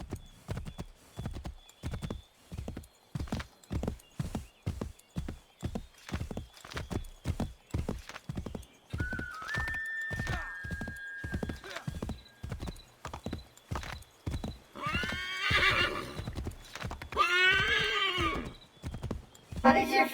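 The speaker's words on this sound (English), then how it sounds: "stupid ass horse." Video-game horse: rhythmic hoofbeats clip-clop steadily for the whole stretch while the horse whinnies loudly twice near the end; a voice speaks briefly in the middle.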